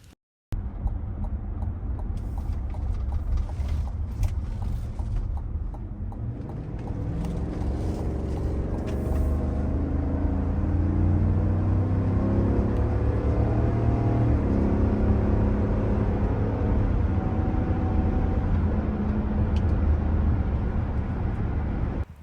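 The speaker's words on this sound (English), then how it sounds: "Now let's see an acceleration test." A 2021 GMC Yukon XL Denali with a V8 accelerates hard, its engine building from a low rumble into a loud, sustained roar with rising pitch through the gears, heard from inside the cabin over about twenty seconds.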